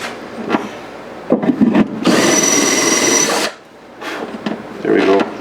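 A power drill spins a small file against a guitar body, a steady whirring grind lasting over a second with rougher tool noise and a brief voice around it, close and fairly loud.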